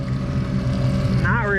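A small fishing boat's motor drones steadily on the water, a loud continuous engine hum with a brief rising whine near the end, while a voice speaks over it.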